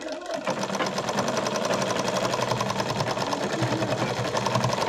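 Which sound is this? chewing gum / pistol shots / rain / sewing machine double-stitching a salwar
sewing machine double-stitching a salwar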